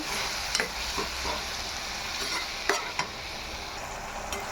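Jaggery and tamarind juice stirred together in a pan, a low steady simmering hiss with several light clicks of a spoon against the metal.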